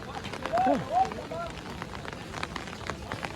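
Rain falls on a muddy buffalo and bull market, a steady close hiss and patter running throughout, with a couple of brief animal-like calls rising over it near the start.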